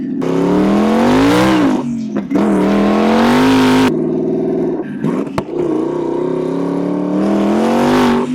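A 1000HP twin-turbo Ford Mustang running anti-lag: a loud, close, rough engine note that surges and falls, with one sharp pop partway through and a steady burbling idle between the rises.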